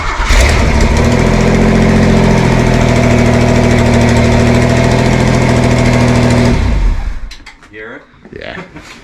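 An old car engine, some 42 to 45 years old, cranks and catches, then runs in a loud, steady, close idle for several seconds before cutting off, followed by brief talk.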